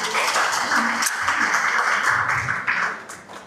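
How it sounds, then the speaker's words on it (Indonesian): An audience in a seminar room claps after a lecture, giving a steady spray of hand claps that fades out near the end with no speech on top. "boleh tepuk tangan keren ya"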